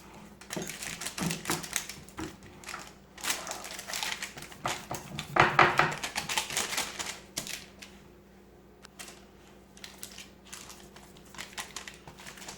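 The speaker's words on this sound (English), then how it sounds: "So you just have to work at it until we get it pressed all the way to the edges" A bar base is pressed by hand into a parchment-lined pan, giving soft irregular crinkling and tapping from the paper. The sounds come in close, faint bursts that grow busier midway, then thin out.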